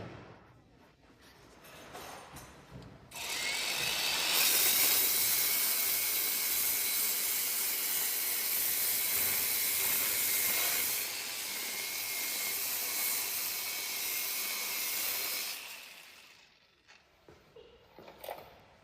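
A pipe belt sander with a 760 mm belt and a 200 mm opening sands in a long, loud burst of broadband roaring hiss lasting over ten seconds, easing off before a quieter tail.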